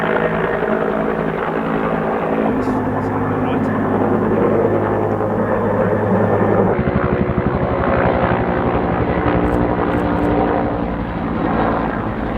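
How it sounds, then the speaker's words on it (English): A helicopter drones overhead with a steady rumbling thrum that shifts pitch partway through, loud and continuous over outdoor background noise. "we've been treated to the helicopter flying overhead"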